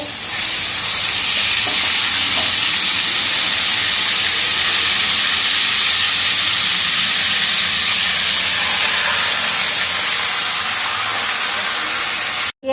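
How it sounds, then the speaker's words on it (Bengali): Chicken pieces frying in a pan with whole garam masala for a chicken biryani, a loud, steady, close sizzle and hiss that holds for the whole stretch before cutting off abruptly at the end. "এবার মাংসটা বসিয়ে দেবো তার জন্য গোটা গরম মশলা দিয়ে দেবো মাংসটা দিয়ে দেবো"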